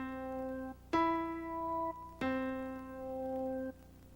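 Sustained, harmonically rich notes from an Ensoniq TS-10 synthesizer keyboard playing its original, unedited patch: a held tone joined by two more sharp-attack notes about a second apart, overlapping and ringing steadily, moderately loud with no voices.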